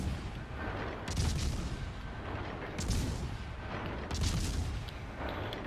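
Naval gunfire from warship guns in the World of Warships Legends game, several heavy booming salvos rolling out at intervals over a steady low rumble of battle noise.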